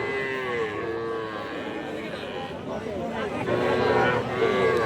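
Cattle at a livestock market, including young Sahiwal-cross bull calves, moo loudly and close by in long, drawn-out calls over a background of people talking.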